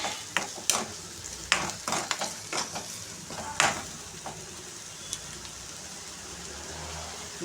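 About 250 grams of prawns fried and stirred in a pan make a soft continuous sizzle with repeated sharp scrapes and knocks of a spoon against the pan, close by, easing off toward the end.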